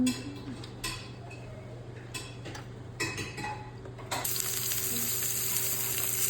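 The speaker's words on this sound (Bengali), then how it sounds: "পেঁয়াজ কুচি রসুনের কুচি দিয়ে দিলাম সামান্য পরিমাণ আদা কুচি" Chopped onion, garlic and ginger frying in mustard oil in a pan, a steady close sizzle throughout that grows louder and brighter toward the end, with a few light clinks of utensils.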